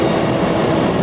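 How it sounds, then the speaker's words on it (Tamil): A train running at a Berlin railway station, a brief steady rumble of wheels and rail noise, loud and close, with no talking. "எங்களுக்கு மேலே ட்ரெயின் ஓடுது"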